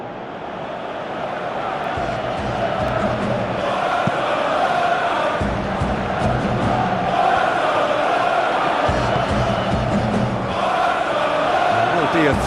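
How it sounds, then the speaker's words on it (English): A simulated stadium crowd in an eFootball match between Barcelona and Levante roars and murmurs steadily, swelling at moments, under a commentator's voice. "you can hear how the crowd are reacting to this too."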